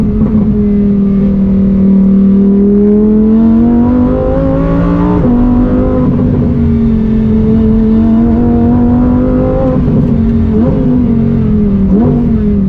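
A Lamborghini naturally aspirated V10 engine drones loud and close on a closed road, its pitch rising and falling through gear changes with a sharp shift step midway, sounding alone without talk.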